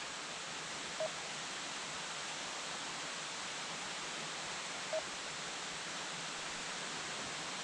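Gertie Creek flowing near a forest service road by Wilson Lake, a steady broadband rush of water that is constant and moderately faint, with two tiny clicks and no voices.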